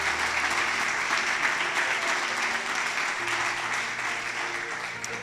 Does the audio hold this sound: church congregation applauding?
yes